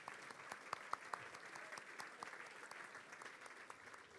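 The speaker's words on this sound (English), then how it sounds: "Give them a big round of applause" Faint, steady applause from an audience at a ladies' Gaelic football All Stars awards ceremony, a soft continuous patter of many hands lasting several seconds with no voices over it.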